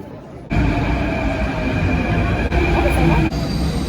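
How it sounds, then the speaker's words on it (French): An Athens metro train in Greece hums and rumbles loudly from the inside, with a sharp jump in level as it starts moving and a steady droning whine, briefly dipping a couple of times. "c'est la première fois que je prends le métro en Grèce, à Athènes"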